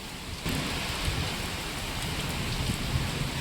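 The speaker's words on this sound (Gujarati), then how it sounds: "માથે એકદમ ઝાપટથી વરસાદ પડ્યો છે" Heavy rain pours down on a farming village in a dense, steady roar that starts abruptly and continues without letup.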